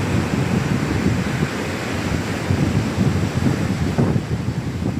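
Loud, continuous roar of strong ocean waves crashing on a black-sand beach in Samar, dense and rumbling throughout with wind buffeting the microphone.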